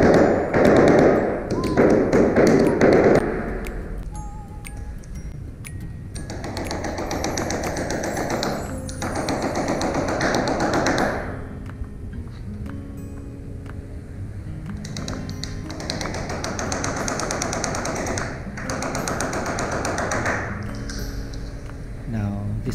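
Nails hammered in to fix a straight length of PVC wiring casing along a wall, a series of sharp taps and thuds coming in bursts, with speech at points between them.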